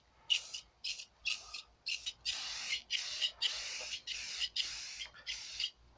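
Rustoleum spray paint hissing from an aerosol can onto a jetski being restored, in a steady series of short, bright bursts separated by brief pauses, close and fairly quiet.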